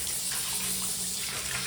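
Water runs steadily from a tap as a pet cat named Mango is bathed, a continuous close gushing splash with no pauses and no voices.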